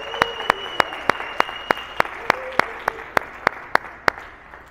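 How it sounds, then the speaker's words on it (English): A small crowd claps in sharp, evenly spaced unison beats at a store's grand opening ribbon cutting in a mall, loud and close, about a dozen claps with a faint voice calling out underneath. "Come on, one more time. Let's clap it up."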